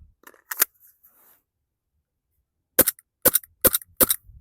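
A WE airsoft Glock 17 Gen 5 gas blowback pistol fires one sharp crack, then after a pause four quick, close snapping shots in a row as the action struggles to cycle.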